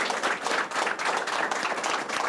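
A group clapping in a meeting hall, brisk, dense applause with slightly uneven surges, moderately close and without speech.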